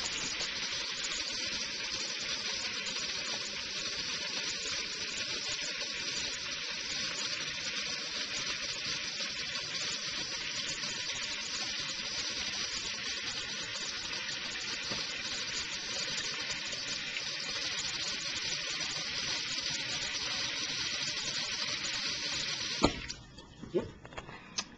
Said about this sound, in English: if you'll watch what happens when I run cold water